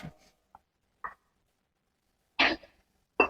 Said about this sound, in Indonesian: Batuk beliau.